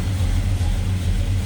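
A 1957 Chevrolet Bel Air two-door hardtop's engine idles with a deep, steady rumble heard close by, loud and constant with no revving.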